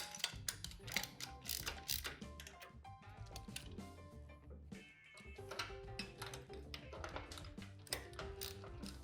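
A ratchet snugs up bolts on a motorcycle hardtail frame during a Sportster hardtail install, quick clicking bursts of pawl ticks repeating close by in workshop quiet, with short pauses between runs.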